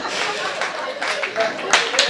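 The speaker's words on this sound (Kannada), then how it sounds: "ಚಪ್ಪಾಳೆ ತಟ್ರಿ ನೋಡೋಣ" Audience at a Kannada comedy show breaking into steady applause, many hands clapping together at moderate loudness, with a performer's voice speaking over the clapping.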